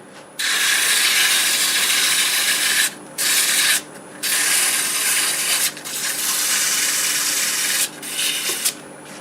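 Sandpaper rubbing a turned wood piece spinning on a lathe in reverse, a loud close hissing scrape in several long strokes separated by short pauses, with no talking.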